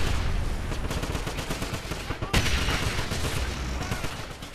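Rocket fire in Wolfenstein, with a sharp launch burst near the middle set within a loud, busy stream of rapid shooting and crackling combat noise.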